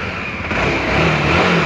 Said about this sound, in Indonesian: suara mesin masih oke okay